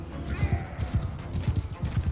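Horse hooves clip-clop in Mount and Blade Bannerlord during a river-crossing battle, a quick, close, rhythmic run of hoofbeats with faint speech-like sounds in the mix.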